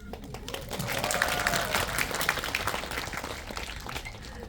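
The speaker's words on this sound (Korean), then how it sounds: "진짜 여러분에게 박수를 드립니다." Audience applause at a Korean film talk event for the movie Seoul Spring, a dense wash of clapping that holds steady for several seconds with a few voices and faint tones mixed in.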